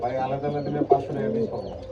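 Soft, low cooing of pigeons repeats through the clip, with a brief flutter or peck in the middle; nearby and fairly clear.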